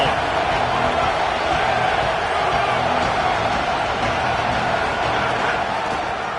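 A dense stadium crowd in a college football video game, Clemson against LSU, sends up a constant loud broadband roar for the whole stretch, with a commentator's voice running over it.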